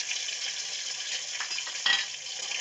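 Cumin, ginger, chilli and poppy seed pastes sautéing in a pan for a potato dum, a continuous bright sizzle close up with a brief scrape of a spoon near the end, no voices.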